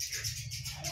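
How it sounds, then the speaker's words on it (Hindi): A cat meows nearby in a home, a steady fairly loud call running through the whole second with no talk over it. "कन्नू ये रही, ईशु ये रही, ये बिल्ली"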